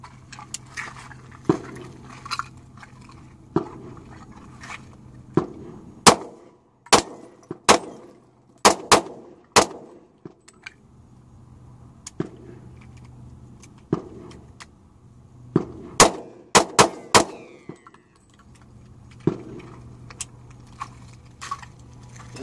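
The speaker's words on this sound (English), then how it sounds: "Then we'll shoot the little baby pistol or whatever." Ruger SR40c pistol gunshots fired outdoors, a dozen or so sharp, loud cracks in uneven bursts and single shots, with quieter gaps of background hum between them.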